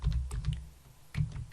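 Computer keyboard typing in quick bursts while a DAX formula is entered, close and clear with a short pause before a final flurry of keystrokes.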